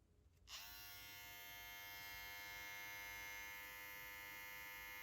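A TPOB Play Mini hair clipper switches on and runs on low power with a steady electric buzz and hum, close and continuous.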